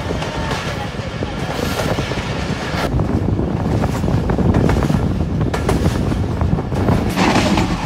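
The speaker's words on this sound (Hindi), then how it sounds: "ट्रैक साउंड जो है वो काफ़ी कमाल का है" Loud rhythmic clatter and roar of the Pakistan Express running on the track between Wazirabad and Faisalabad, heard from inside an economy class carriage, with wind buffeting and occasional voices.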